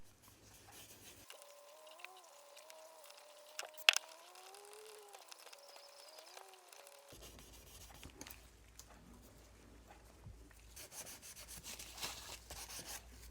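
A piece of brass is rubbed with WD-40 in a faint, uneven scrubbing, with soft scattered taps and a bird cooing quietly in the background.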